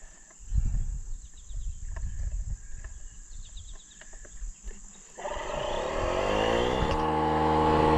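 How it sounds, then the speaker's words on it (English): An air inflator pumps up an old Co-op tire on a farm, starting about two-thirds of the way through with a loud, steady buzzing hiss after a stretch of faint rustling and handling noise. "Let me go get the air inflator. We'll see if it'll pump up an old co-op tire."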